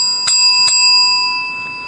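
Two quick dings of a warning bell at a student debate, close and ringing, each leaving a sustained tone that fades slowly.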